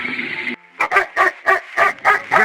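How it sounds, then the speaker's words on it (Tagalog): Several dogs bark in a quick series of sharp yaps, close and loud, following a brief steady noise, in a rural scene where grass is being cut. "Kung kailan ako nagtatanas ng talahib doon naman tahol na tahol"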